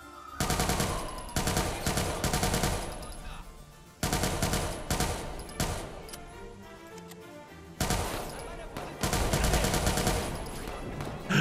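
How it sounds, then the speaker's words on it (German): Automatic gunfire aimed at the player in Watch Dogs 2 comes in three loud, dense bursts of rapid shots, with short quieter gaps between them. "Wo wurde ich jetzt beschossen?"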